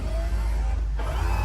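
A new power window motor on a 1975 Pontiac Grandville drives the window up quickly, a loud close whirring hum over a low engine rumble, lasting the whole short moment.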